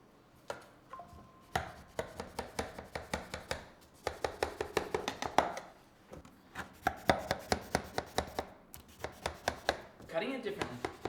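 A knife chopping through baklava in a pan makes rapid, crisp taps in steady bursts across the clip, close and moderately loud, with brief gaps between runs.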